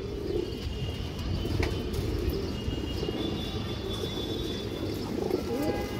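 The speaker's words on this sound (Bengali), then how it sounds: "দর্শক, এই দেখেন বড় সাইজের একটা মুসলদম নর কবুতর," A large male Muslodom fighting pigeon coos softly among other birds, with faint chirps over a steady outdoor background hum. The cooing is low and continuous, and no voices are heard.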